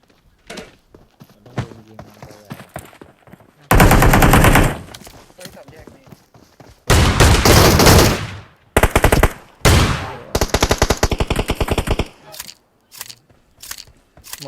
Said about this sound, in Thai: ต้องลุมยิงนะไอ้แทนอย่าเล่นไกลเกิน